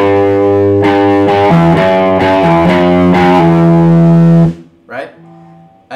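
Distorted electric guitar playing a riff, a loud sustained chord with hammer-ons and pull-offs over it, ringing for about four seconds before a voice starts talking.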